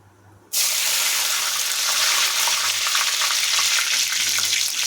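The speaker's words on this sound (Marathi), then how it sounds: "आपलं मस्त असं जिरं तडकलं आहे तर आपण कढीपत्ते टाकून घेऊया" Cumin seeds and curry leaves sizzle loudly in hot oil for a potato and brinjal curry, a sudden steady crackling hiss that bursts in after a quiet moment and continues close and unbroken.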